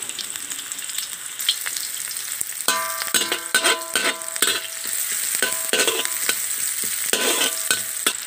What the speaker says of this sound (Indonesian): bawang putih, bawang besar. Tumis sehingga dia ada bau wangi dia